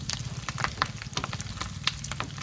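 Pork sizzles and fries in its own rendered fat, a busy crackle of close pops and spits over a steady hiss, with a few sharper snaps standing out.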